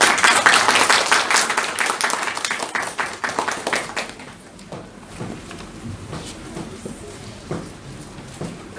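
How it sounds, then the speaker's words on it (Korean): A church congregation at a Thanksgiving service applauds to welcome a speaker, with loud clapping at first that thins into scattered, fading claps by the end. "우리 박수로 모시겠습니다."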